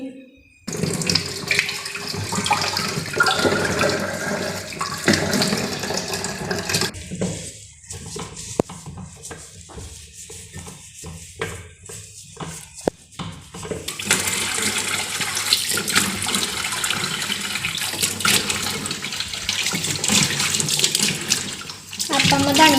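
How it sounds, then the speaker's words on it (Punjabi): Running tap water pours steadily over a butter churner being washed, a loud continuous splashing rush with clattering handling and brief quieter gaps mid-way, no talk. "ਤੇ ਆਪਾਂ ਹੁਣ ਮਧਾਣੀ ਧੋ ਦਵਾਂਗੇ"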